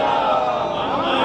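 A crowd at a religious procession chants salawat in response to a leader's call, a dense sustained mass of many voices filling the clip at steady volume.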